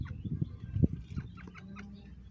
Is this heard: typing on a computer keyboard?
no